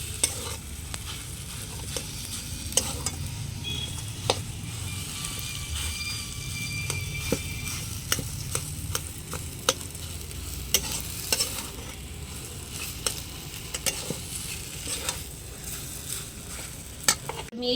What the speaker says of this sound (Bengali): এবার আমি মশলাটাকে ভালো করে আলুর সাথে মিশিয়ে নেব বন্ধুরা